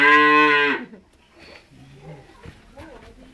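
A cow on a farm in Kisoro, southwest Uganda, lets out one loud, close moo lasting under a second, followed by quieter outdoor sounds and people talking.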